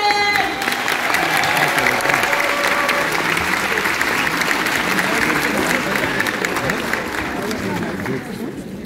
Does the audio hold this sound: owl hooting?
no